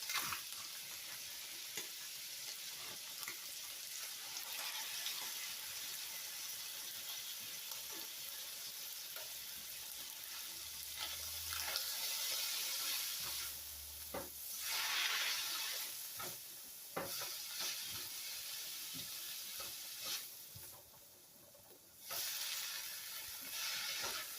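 Peppers and onions frying in a pan for a taco pasta casserole, a steady close sizzle and hiss with occasional stirring scrapes and louder bursts, no voice over it.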